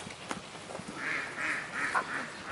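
A small Brant goose gives a run of about four short, soft honks in a steady rhythm, fairly faint against background noise on a farm.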